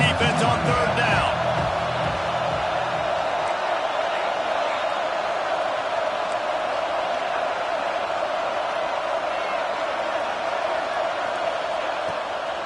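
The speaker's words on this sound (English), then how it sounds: "Decibels rising as the crowd gets behind this defense on 3rd down" A stadium crowd roars for the defense on third down in the College Football 26 video game against Florida, a loud, steady wall of cheering that holds its intensity throughout, with a brief burst of sharper noise at the very start.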